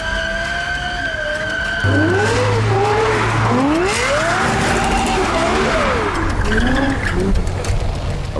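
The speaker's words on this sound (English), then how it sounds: "A razor-sharp V10 symphony engineered with Yamaha, tuned like a musical instrument, and revving so fast that old-school tachometers couldn't even keep up" A Lexus LFA with its Yamaha-tuned V10 screams through rapid rising and falling revs, loud and close, with sweeping pitch changes and a sharp tire-squeal quality as it accelerates.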